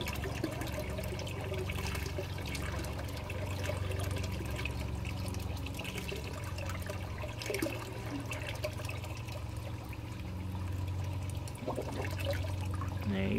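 Water from a media-filled grow bed draining through a U-Flex siphon on a front porch aquaponics setup, a continuous gurgling rush and trickle, steady and moderately close throughout.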